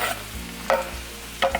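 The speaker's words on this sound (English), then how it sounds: "I'm gonna melt 1 tablespoon of butter, and then I'm going to add in the mushrooms along with the garlic." Mushrooms and garlic sauté in melted butter in a pan. A soft, steady sizzle is broken by two or three sharp stirring scrapes, close by and with no talking.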